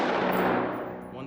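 Rapid string of AR rifle gunshots fired while the shooter works the safety selector each time the gun is raised, loud and close, blurring into one sustained burst of cracks that fades slightly toward the end.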